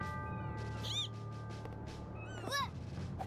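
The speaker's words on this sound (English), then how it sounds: "The cat is unresponsive." A cat in the video game Trials of Mana gives two short, quiet meows about a second and a half apart over a soft ambient game backdrop.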